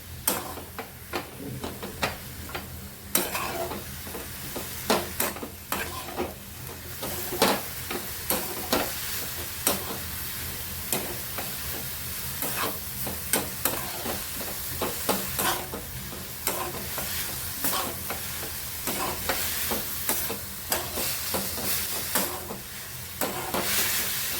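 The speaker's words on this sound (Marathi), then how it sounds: "हलकीशी आपल्याला परतून घ्यायचे, त्याचा कडवटपणा निघून जाण्यासाठी" Fenugreek leaves sautéed and stirred in a pan for methi malai matar, with a soft steady sizzle and repeated scraping stir strokes and clicks throughout, moderately close and without talk.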